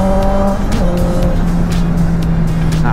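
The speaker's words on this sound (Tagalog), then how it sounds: "Daming sasakyan!" Heavy road traffic streams past a Honda CB650 motorcycle on a long ride, cars droning and whooshing by close with engine tones shifting in pitch over constant wind and road roar.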